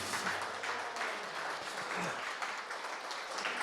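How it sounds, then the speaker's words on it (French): Applause from a church congregation fills the room, a steady and fairly faint patter of clapping that holds for several seconds with no voices over it. "On peut applaudir Jésus."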